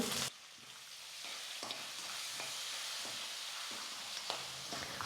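Dal and turmeric powder with curry leaves frying in hot oil, a steady close sizzle and hiss broken by soft stirring scrapes, with no talk over it.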